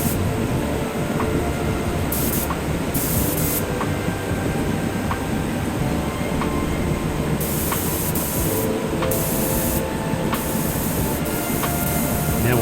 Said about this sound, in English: Now on to the second coat of paint.